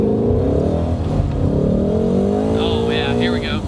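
A Ford Shelby GT350 engine revs hard on a race track, a loud, sustained roar climbing in pitch, heard from inside the car with a person talking over it.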